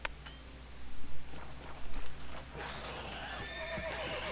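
A horse in The Witcher 3 game gives a loud whinny, followed by clip-clopping hooves and another neigh, close and clear with no talking.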